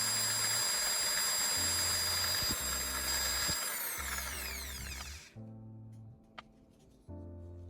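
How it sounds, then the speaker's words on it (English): A sanding disc whines at high speed as it grinds one end of a carbon rod to a point, the steady tool drone broken by short pauses before the motor spins down and restarts near the end. "Using a sanding disc, I'll meticulously grind and sharpen one end of the carbon rod into a fine point"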